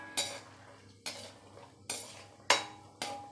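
Cashews roasting in hot ghee are stirred in a pan: five sharp metallic scrapes and taps of a spoon against the pan at a steady pace, with a faint sizzle beneath.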